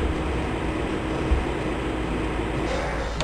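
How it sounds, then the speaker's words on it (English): A steady, loud rumble fills the whole stretch as a transit train rolls along in the video game Half-Life: Blue Shift. There is no break and no talking. "This train is inbound from the Area 8 topside dormitories to the central transit hub in Area 9."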